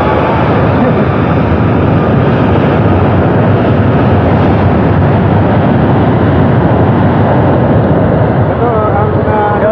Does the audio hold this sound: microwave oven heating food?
no